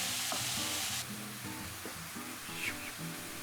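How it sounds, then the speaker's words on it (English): Diced apples fry and sizzle in sugar in a pan, a steady close hiss broken by scraping stirs and soft knocks of a utensil against the pan. "So basically you're frying the apples in sugar, and that gives them a fantastic caramel flavour."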